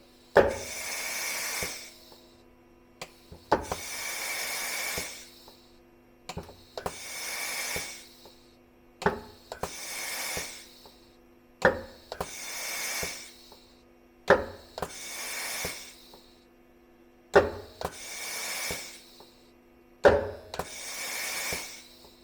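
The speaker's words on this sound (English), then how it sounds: "Let's see what happens when I press the tool release button." A Haas CNC mill's pneumatic drawbar cycles its tool release with no tool in the spindle, the piston moving instead of the plunger. About eight loud, close bursts of hissing air repeat at a steady pace, each lasting roughly two seconds, with no talking.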